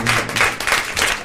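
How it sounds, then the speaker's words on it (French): A television studio audience claps for Nelson Montfort in a short, fairly loud burst of applause, rising and dipping in a few waves, with a faint voice under it. "On applaudit et on encourage Nelson Montfort"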